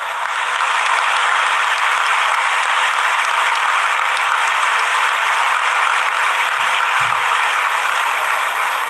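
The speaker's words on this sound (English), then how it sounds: "you are overwhelmingly giving a big clap" Sustained applause from a large audience at a university convocation ceremony in India, a dense, steady clapping wash that carries on without a break for the whole stretch.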